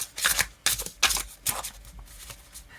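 Thick tarot-style cards being riffled and shuffled in several quick bursts, close up, with short pauses between each flurry.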